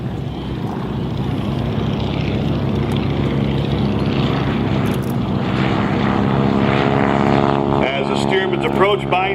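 A Boeing Stearman Cadet, a 1940s open-cockpit biplane trainer, drones loudly overhead at an air show, its radial engine and propeller roaring steadily with a rising, shifting pitch near the end.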